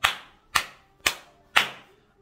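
Four sharp, evenly spaced hand claps from a single person, loud and close, each ringing out briefly before the next, with no voices alongside.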